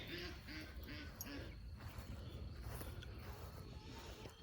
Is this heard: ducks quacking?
yes